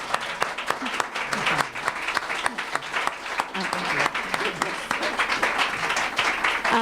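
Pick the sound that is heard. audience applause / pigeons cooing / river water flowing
audience applause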